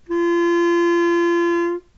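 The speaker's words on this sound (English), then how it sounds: "you're playing G with nothing in the left hand, but you're keeping the right hand down" A single sustained clarinet G held steadily for nearly two seconds with the right-hand fingers kept down, a clean solo tone with no talking.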